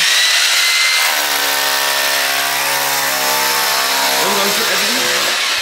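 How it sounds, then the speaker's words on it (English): A drill boring a hole through a thick half-metre house wall for a pellet stove pipe, a loud continuous grinding whine that rises in pitch and holds steady, with a voice briefly heard near the end. "Papa is drilling a hole in the wall so we can put the"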